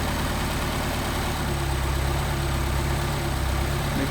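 A car engine with a rebuilt Solex carburetor runs close up, holding a steady low throb and then rising slightly for a moment before settling again. No speech is heard.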